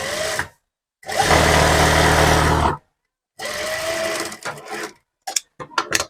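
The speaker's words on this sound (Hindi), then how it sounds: "अब हमें लगानी है यहाँ पे सिलाई। इस तरीके से यहाँ पे सिलाई लगाएंगे।" Sewing machine stitching the hem of a dhoti salwar: close, loud steady mechanical whirring in bursts, one long run of about two seconds, then shorter runs and stop-start stitches separated by silence.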